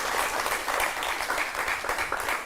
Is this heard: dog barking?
no